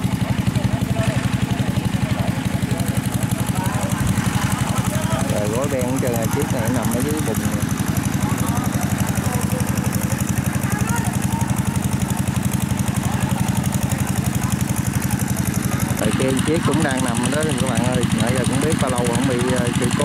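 A loud, steady Kubota combine harvester engine idles nearby in a rice field with a constant low rumble and vibration, while voices talk over it.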